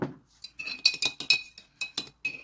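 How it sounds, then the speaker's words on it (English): Sugar being whisked into a mix of almond and cashew milk, a run of quick close metallic clinks and scrapes against the bowl with short pauses between bursts. "So I whisk very well until the sugar was dissolved in the milk."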